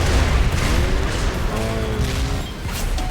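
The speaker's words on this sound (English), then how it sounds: "there's a lot of damn loud explosions right here" Dense, loud rumbling blasts and booms run continuously, with low thuds layered over a steady roar of explosions in the video game Trials Fusion.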